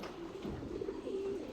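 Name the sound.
pigeon cooing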